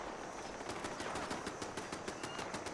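Automated turrets fire in Fallout 76, a steady, rapid rattle of gunfire that stays fairly distant and even for a few seconds.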